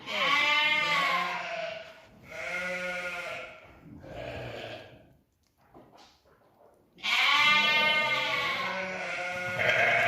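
A lamb bleats loudly and close by in three long, wavering cries separated by short pauses. Faint rustling fills the quieter stretches between the calls.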